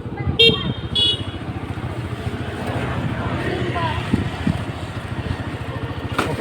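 A motorcycle engine rumbles past on a road, steady and fairly close, with a couple of short horn toots near the start and faint voices in the background.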